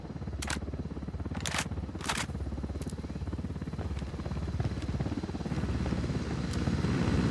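Apache attack helicopter in the shooter game Ghost Recon Wildlands, a steady low rotor drone churning throughout under dense game noise, with sharp bursts cutting in at intervals and the whole mix swelling slightly louder toward the end.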